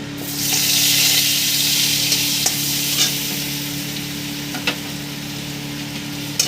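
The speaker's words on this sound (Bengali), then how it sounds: "আমি এখানে দিয়ে দেবো একটু মাখন দিয়ে দেবো কড়ার মধ্যে।" Butter sizzles loudly in a kadai while being stirred, a dense steady hiss with a few sharp scraping clicks from the utensil, close up and with no voices.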